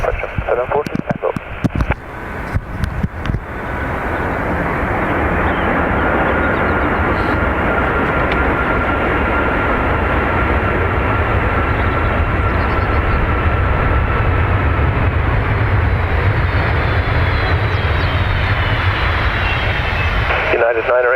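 A Boeing 757 jet touches down on runway 28 left at Dublin Airport, its loud, steady engine roar building after a few seconds and holding broad and close throughout.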